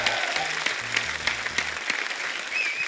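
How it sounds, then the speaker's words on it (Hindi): Studio audience on an Indian comedy talk show claps loudly and steadily, a dense sustained wash of applause with faint music underneath, no talking. "जोरदार ताली हो जाए।"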